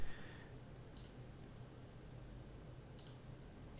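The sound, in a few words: computer mouse clicking, double click and right click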